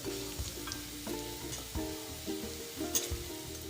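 Ginger and green chilies frying in a pan for inji puli, a close, moderate sizzle with bubbling crackle and stirring scrapes throughout, no talk.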